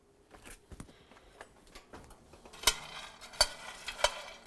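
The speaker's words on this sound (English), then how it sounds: "So let me give it a stir." Utensil scrapes and taps sound close by as food roasting in an oven is stirred, ending in a few sharp metallic clinks against the pan. The sounds are fairly quiet and come at an uneven pace.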